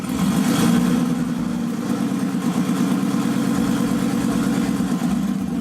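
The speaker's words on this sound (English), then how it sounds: "I'm gonna give it a little gas" A Nissan 240SX with a big turbo RB engine runs close by, its mid-pitched idle lifting slightly under a light blip of throttle, steady and fairly loud with no voices.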